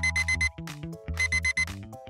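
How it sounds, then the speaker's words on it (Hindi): An alarm clock rings in loud, bright repeated bursts of beeping tones, two rapid sets of four pulses separated by a short melodic chime-like passage, with no talking. "बंद हो जाओ अलार्म क्लॉक।"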